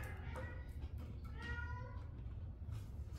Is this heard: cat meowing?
yes